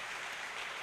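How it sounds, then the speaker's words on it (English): Audience applause at a police academy school seminar, a short burst of steady, dense clapping from a crowd. "big applause to him"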